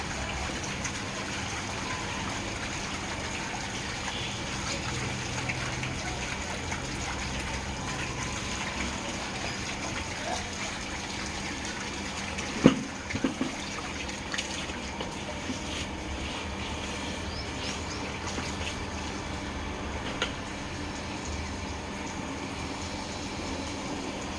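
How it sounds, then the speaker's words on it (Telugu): Water gushes steadily from a bucket onto a large batch of rice for washing, for a long stretch, with a couple of brief knocks in the middle. "రెండు బకెట్ల వాటర్ పోసినాడు చూడండి"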